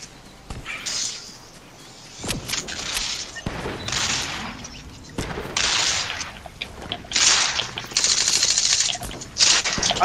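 Rapid bursts of gunfire in the video game Fortnite, sharp crackling volleys that come in repeated clusters, loud and close, with a few gaps between shots and no speech.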